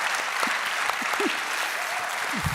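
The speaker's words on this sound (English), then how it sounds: "I want to ask everybody to give Cindy a massive round of applause." Audience applause for an honoured guest at a business morning event, dense continuous clapping with a few brief voices and cheers poking through the crowd noise.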